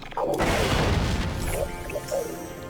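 A bomb goes off in a StarCraft II custom map card game, a deep booming blast that swells and rumbles for a couple of seconds, loud and close, with a voice speaking over it.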